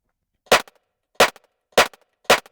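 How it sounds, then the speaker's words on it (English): Four synthesized rim shot hits from an Elektron Digitone 2, each a sharp, bright crack followed by a short tail, evenly spaced about two-thirds of a second apart against silence. "Rim shots."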